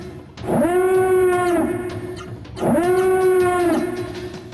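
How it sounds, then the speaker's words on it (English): Twitch raid alert in the style of an Imperial air-raid siren, two long rising-and-falling wails, each steady for about two seconds with a short gap between, loud and with no voices over it. "That is that's the sound of a raid on Twitch."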